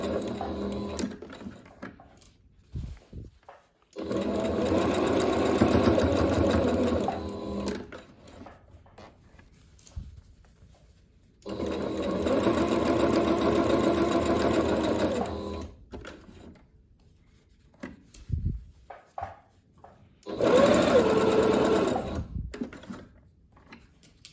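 A sewing machine runs a narrow baby hem along the folded edge of a shirred-waist pant leg in three steady bursts of several seconds each, close and clear, with quiet handling noises between runs.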